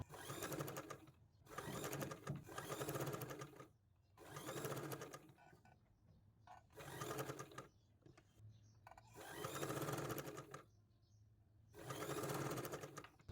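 Sewing machine stitching lining cloth with invisible piping, running in repeated bursts of a few seconds each with short pauses between, a steady close mechanical whir, no talking.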